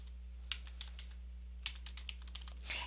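Someone types on a computer keyboard with light, quick clicks in short bursts and pauses, close and faint over a low steady hum.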